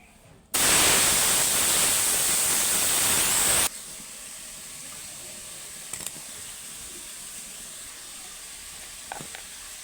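Pieces of rohu fish frying in oil in a pan: a loud, steady, hissing sizzle for about three seconds, then dropping to a much softer, continuous background fizz with a few faint clinks.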